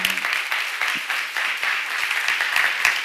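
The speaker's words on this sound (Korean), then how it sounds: "박수 한번 쳐요." Congregation applauding at a church seminar service, a dense steady patter of many hands clapping together for about three seconds, with no voices over it.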